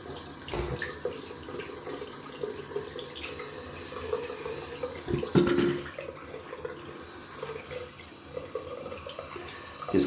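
Tap water runs steadily into a sink for a rinse after a classic wet shave with a Gillette Slim adjustable razor, with a few louder splashes and clatters partway through.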